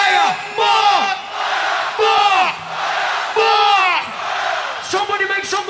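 A festival crowd roars and whoops for the DJ in repeated loud surges of cheering and shouting, several waves a second apart, close and dense.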